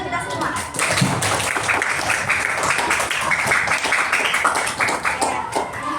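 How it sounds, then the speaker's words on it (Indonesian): Students clapping in a classroom, a steady run of brisk handclaps from a small group with a voice mixed in under it. "Kita beri tepuk tangan dulu dong untuk kita semua."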